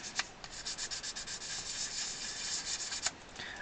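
Light hand sanding of accordion celluloid during repair of a cracked treble keyboard section on a Frontalini, rapid scratchy back-and-forth strokes up close, with a couple of sharper scrapes standing out, no voices.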